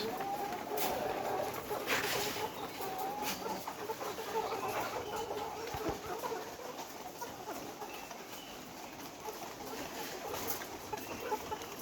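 Layer hens on a farm, fed on mash feed and nearing the start of laying, cluck and murmur continuously as a dense flock in hot weather, heard up close over steady background noise.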